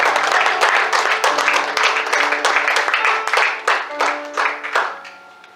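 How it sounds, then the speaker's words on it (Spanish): Church congregation clapping for a few seconds during a Spanish-language sermon on grace, with mixed broadband claps and voices, a sustained tone and shouts running underneath and tapering off near the end. "Denle un aplauso al Señor."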